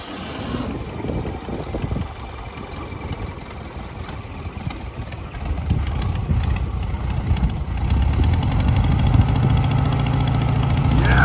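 Spare engine of a vintage VW Bus running steadily at idle, a low continuous rumble that grows slightly louder and fuller over the last few seconds, with no talk over it.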